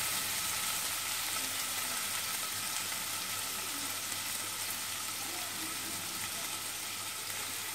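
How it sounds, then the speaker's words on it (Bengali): Tomato frying in a pan with oil gives a steady, dense sizzle that holds at an even level from start to finish, close and fairly loud, with no voices. "একটু ভাজা হবে টমেটোটা"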